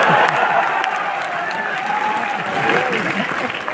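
An audience claps loudly and steadily at a Hindi kavi sammelan poetry gathering in a college hall, sustained applause with a little cheering mixed in throughout.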